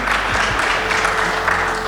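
Audience applause at a drone search-and-rescue panel, a brief burst of steady clapping from a seated crowd, moderately loud and alone without talk.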